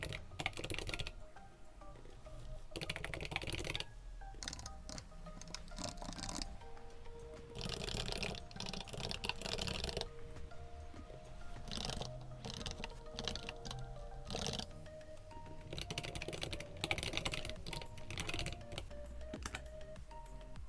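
Steady typing on a computer keyboard while entering text into a design layout, quick irregular runs of close clicking keystrokes with short pauses, sustained throughout at moderate level, no talking.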